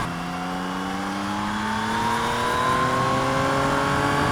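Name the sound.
Yamaha Y-AMT motorcycle accelerating on a circuit in D+ mode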